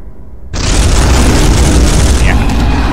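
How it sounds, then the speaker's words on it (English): Bolter fire in the Space Hulk video game erupts abruptly from quiet into a loud, sustained roaring burst lasting over two seconds, with voices talking beneath it. "Actually, from there you do have a shot with your bolter,"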